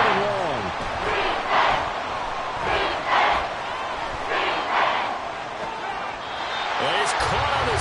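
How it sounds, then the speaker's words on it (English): A football stadium crowd roars loudly and steadily at a big third-and-long moment, swelling in waves with bursts of cheering and shouts throughout, with no voices standing out above the din. "This crowd turning up the decibel level."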